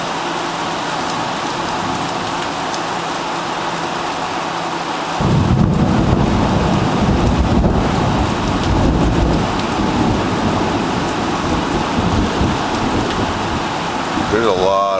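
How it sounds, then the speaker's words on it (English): A heavy thunderstorm with steady rain pouring on surfaces and a loud rumble of thunder swelling in partway through, continuous and close, with no talk. "There's a lot of lightning."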